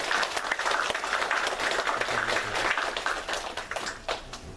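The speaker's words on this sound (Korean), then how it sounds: "우리 다 같이 격려하며 박수하도록 하겠습니다." A church congregation at a Sunday service claps together in encouragement, a steady wash of many hands applauding at moderate distance, without talk, easing slightly toward the end.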